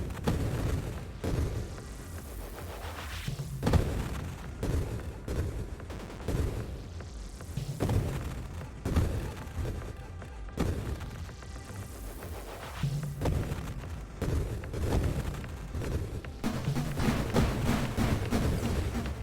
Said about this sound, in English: At least not in the rave explosions I've got going on.